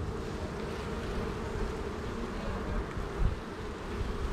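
Honeybees crawling over a brood frame in an open hive, young bees chewing out of capped cells, give a steady, close, dense buzzing hum that holds even throughout, with one slightly louder swell near the end.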